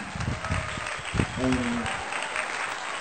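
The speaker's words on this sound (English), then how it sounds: "Round of applause, round of applause." An audience claps and cheers for a guest being introduced on a show, a loud, dense burst of applause while a voice speaks over it.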